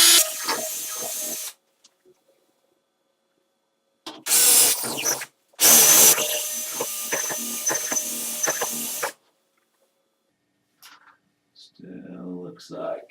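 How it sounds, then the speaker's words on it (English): A power drill bores through drywall during a grab rail installation, loud whirring bursts of a few seconds each separated by silences, with a faint rustle toward the end. "So I bring in a second drill"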